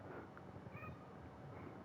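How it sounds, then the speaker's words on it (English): A cat that has just come into a quiet room meows once or twice, soft and fairly close, over faint background noise with no speech. "A cat has just entered my room."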